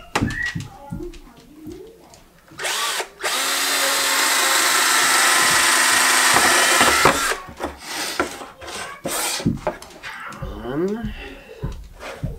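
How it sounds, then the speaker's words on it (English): A power drill bores the missing holes in a wooden DIY bowed guitar, one sustained loud whine lasting several seconds, framed by nearby talking, handling knocks and short bursts before and after. "Now we can drill those missing holes"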